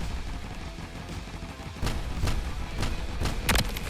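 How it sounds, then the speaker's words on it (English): Cannon towers fire in a tower defense video game, a sequence of dull thuds and booms at irregular intervals over a low background, moderately faint. "Those cannons are doing a good job."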